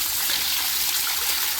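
Water gushes steadily from a running motor pump into a garden, a continuous close splashing rush with no pauses.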